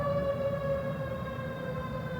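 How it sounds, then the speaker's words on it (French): Siren of a passing ambulance or fire engine, a loud, steady wailing tone with clear harmonics that glides slightly downward as it goes by, alone over faint street noise. "il y a une ambulance qui passe"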